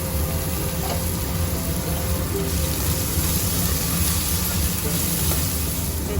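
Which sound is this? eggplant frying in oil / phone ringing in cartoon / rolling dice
eggplant frying in oil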